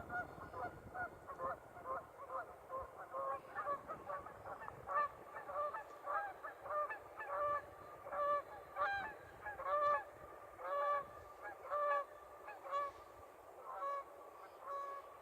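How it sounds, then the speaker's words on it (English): Geese honking along the Rogue River in Oregon, a flock calling in repeated clusters of nasal honks, moderately distant and fairly faint over quiet outdoor background, persisting throughout. "there's some geese"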